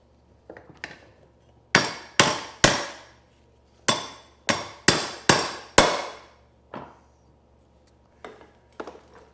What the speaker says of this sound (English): let's just start walloping it with the hammer a little bit